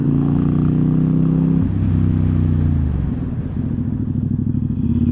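A 2019 Ducati XDiavel S pulls to a hard stop: the loud engine rumble drops in pitch as the bike slows, then settles into an uneven, lumpy idle, heard up close from the rider's position.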